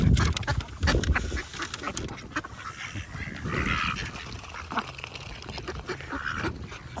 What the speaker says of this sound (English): And you do get native ducks, but they seem to have been superseded by mallards.